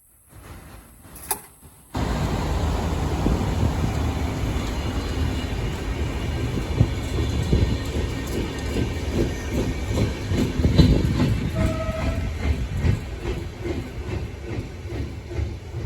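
A non-stopping train rumbles through Móra la Nova station at speed after a short quiet lead-in, a broad steady roar with rattling and a brief high tone partway through.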